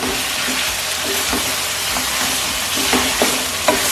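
Chicken pieces frying in a pan for a desi chicken korma, a steady close sizzle with scattered stirring scrapes and clinks throughout, no voices.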